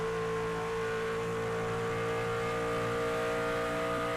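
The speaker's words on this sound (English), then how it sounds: "A little bit of opportunity for you to hear what it sounds like inside of those virtual trucks." Steady, sustained engine drone inside a virtual race truck in the iRacing Trucks series at Long Pond, Pennsylvania, a constant loud hum with strong tonal harmonics and no change in pitch.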